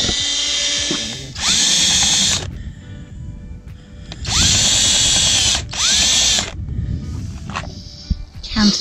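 Power drill boring a hole on a sailboat for fitting a diesel heater, three loud close bursts of whining drilling separated by quieter pauses with light handling noise.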